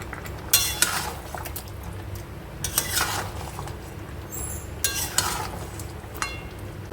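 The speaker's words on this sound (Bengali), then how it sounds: "এদিকে চিকেনটা কষাচ্ছি" Chicken is being stirred and sautéed in a kadai, with a few separate metal spoon scrapes and clinks against the pan over a low, steady background sizzle, heard close up.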